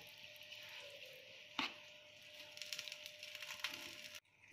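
Semolina (suji) being stirred steadily in a pan over a medium flame: a close, continuous scraping and gritty rustle with a few sharper knocks of the utensil, ending in a brief silence.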